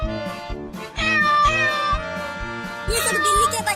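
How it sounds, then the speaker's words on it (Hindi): Cartoon cat and her kittens meowing, a string of bright, drawn-out meows repeating in quick succession over a rhythmic background music beat, fairly loud and close. "वो देखो, बिल्ली अपने सभी बच्चों को हमारे घर लेकर आई है"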